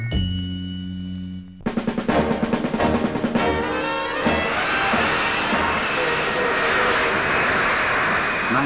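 A Hawker Siddeley Harrier jump jet roars loud and close in 1969, starting with a steady engine whine that breaks into a pulsing, rumbling blast and builds to a broad, sustained jet roar.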